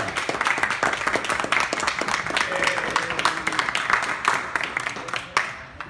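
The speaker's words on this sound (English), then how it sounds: "let's all have a round of applause for Tamara." An audience claps throughout, a dense, lively round of applause that stays steady and close for about five seconds before cutting off abruptly.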